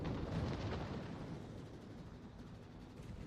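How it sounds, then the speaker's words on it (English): Heavy naval gunfire from the Russian battleship Sinop in World of Warships, a deep booming salvo that fills the opening second and then rolls away into a sustained low rumble with no speech over it. "I will have time for one more salvo, I hope."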